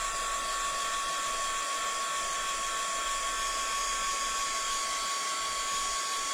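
A hair dryer blowing steadily on a papercraft tunnel book box, a continuous close whirring hiss with a high motor whine, unbroken and even for the whole stretch, with no talking.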